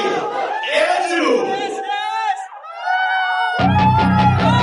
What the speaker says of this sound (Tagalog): Grabe mga sigawan.